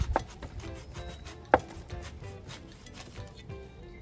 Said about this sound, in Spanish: Vamos con este serruchito es muy bueno